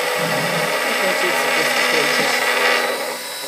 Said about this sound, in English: Let's turn off the drill now.